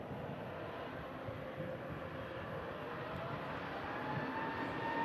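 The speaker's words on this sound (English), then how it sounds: "the Learjet that's taxiing out, it's got a very nice livery on it" Learjet business jet taxiing out at an airport, heard as a steady, moderately distant engine roar with a broad rumbling hiss that holds at an even level throughout.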